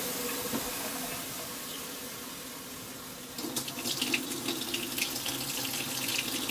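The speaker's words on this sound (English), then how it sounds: "Good hot water. Ooh, that's really hot water." Hot water runs from a tap into a sink in a fish house just after the water heater was hooked up, a steady hissing flow that grows louder and splashier about halfway through, with no talking.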